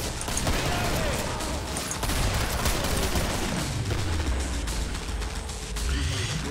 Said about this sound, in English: So just wasted a ton of shots there.